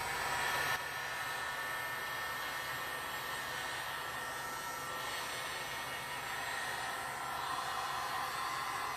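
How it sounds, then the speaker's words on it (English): A heat gun running on low speed blows over resin art, giving a continuous, even, breathy whoosh close to the listener that holds steady throughout. "So now I'm going to introduce my heat gun. Low speed to start with."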